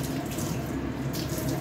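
Steady running tap water splashing into a sink during washing up, a continuous close, even rush with no talking.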